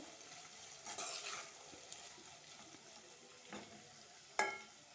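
Ivy gourd (dondakaya) curry is stirred in a frying pan, with a soft, quiet sizzle broken by a few scraping strokes of the spoon against the pan.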